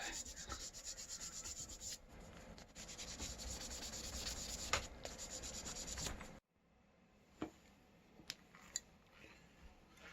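Fine-grit sandpaper, up to 2,400 grit, rubs steadily in quick strokes for about six seconds during a bicycle stem swap, then stops, leaving a few faint taps and scrapes.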